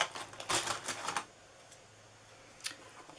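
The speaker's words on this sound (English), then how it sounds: "let's go ahead and sharpen all these score marks" A bone folder scraped firmly along score lines on paper, giving a rapid burst of crisp scratchy strokes, then a pause and one last short swipe, close and fairly quiet.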